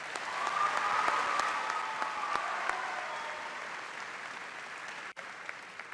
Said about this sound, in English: Let's give her a round of applause for her awesome design.